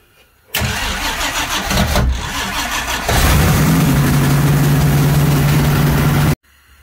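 A 1963 Ford Fairlane with a dual-carburetor FE V8 cranks briefly, catches and roars to life, settling into a loud, steady idle close by before cutting off abruptly.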